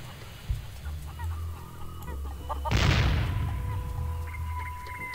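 A chicken clucks in the point-and-click game The Curse of Monkey Island, with short clucks over soft game music, then a loud burst of noise like a squawk or boom before the music carries on.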